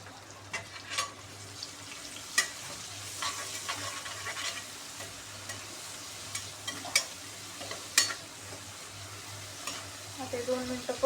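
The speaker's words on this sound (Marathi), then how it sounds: "आता 2 मिनटं परतून" Spices and turmeric sautéed in a pan on a gas stove, heard as a continuous gentle sizzle with repeated scraping and tapping of the spatula, close up with no voices.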